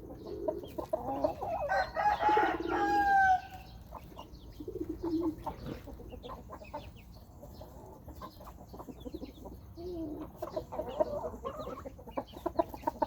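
A breeding rooster, a former fighting cock, gives one clear, close crow, followed by scattered soft clucks and farmyard rustling in a quiet setting.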